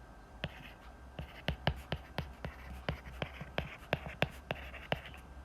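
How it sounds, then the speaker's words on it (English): Pen strokes jotting numbers by hand while working out a circle's radius from its area, a series of short, close scratchy taps in an irregular rhythm over a quiet room. "just write down all the numbers, all the figures."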